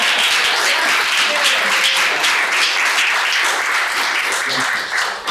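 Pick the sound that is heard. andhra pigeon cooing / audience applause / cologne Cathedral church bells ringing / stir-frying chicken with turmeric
audience applause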